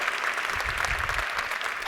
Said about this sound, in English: Y'all can give all three of our sharers a round of applause